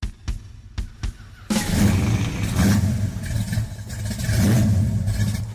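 A blacked out 1978 Dodge Charger engine fires with a few sharp bursts, then settles into a loud, steady, rumbling rev that swells and ebbs close by.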